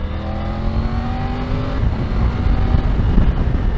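A Triumph Tiger 900 Rally Pro motorcycle engine pulls steadily under acceleration on an open road, a loud close drone with rising pitch, then a gear change and continued throaty running mixed with wind rush.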